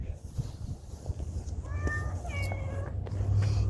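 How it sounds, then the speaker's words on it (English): Cat meowing outdoors during a walk, two or three short rising meows close by over steady low background rumble, with no talk. "Hello, kit. She came out of the woodworks."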